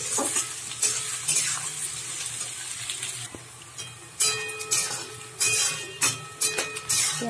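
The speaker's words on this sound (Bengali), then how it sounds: "পেঁয়াজটা ভালো করে লাল করে আমি ভেজে নিচ্ছি" Sliced onions fry in hot oil for chicken biryani, a steady close sizzle broken by repeated scraping stirs and clinks of a spatula against the pan, with no talking.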